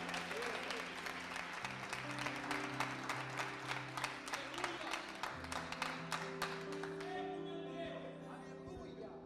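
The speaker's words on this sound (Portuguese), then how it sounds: "Obrigado pelas suas palmas, eu adorei." A church congregation claps in sustained applause, with rhythmic clapping running under music and a voice speaking over it before the clapping thins out near the end.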